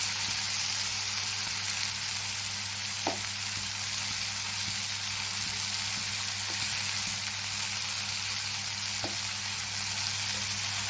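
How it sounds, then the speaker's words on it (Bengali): Ridge gourd, brinjal and onion fry in a pan for a fish-head chochori, a steady broadband sizzle with a couple of faint stirring clicks, close and continuous with no talking. "দেখুন ঝিঙাটা, বেগুন, পেঁয়াজ সব ভাজা ভাজা হচ্ছে।"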